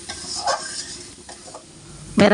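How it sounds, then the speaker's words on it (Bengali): Dried loitta fish fries over medium heat in a pan and is stirred, with soft scrapes and light sizzling, ending in a louder clatter at the very end. "এখন আমি সুটকিটাকে খুব ভালো করে পোড়া পোড়া করে নামিয়ে নিচ্ছি"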